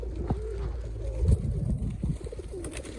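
Soft, low cooing of racing pigeons close by, repeated murmuring calls over a dull background rumble.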